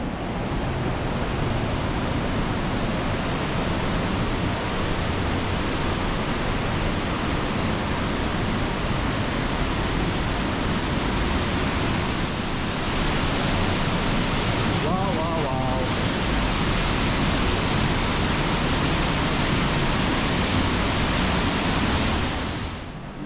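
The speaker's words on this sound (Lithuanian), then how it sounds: "o šitas didysis krioklys tenai matosi" A large waterfall in Italy roars as a dense, steady rushing wash of water, loud and continuous throughout, with spray-like hiss and no pause.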